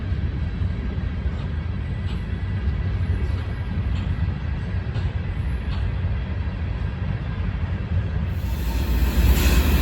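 A freight train rolls past near the Bellevue water tower, just south of Bellevue, as a loud, steady rumble that holds for the whole stretch with no voices over it.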